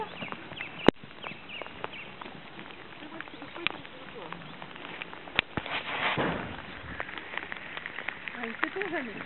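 A horse walking with sharp, irregular hoof clops on a hard surface against a noisy outdoor background, while several people chat nearby throughout.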